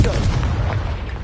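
A Confringo blasting spell in Hogwarts Legacy bursts with a deep, booming explosion right at the start, loud and close, then a rumbling decay with scattered crackles.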